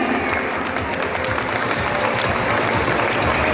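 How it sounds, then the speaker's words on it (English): Dense, steady applause from a large audience fills the hall at a school graduation ceremony, loud and continuous throughout with a faint crowd murmur beneath. "Clap for him."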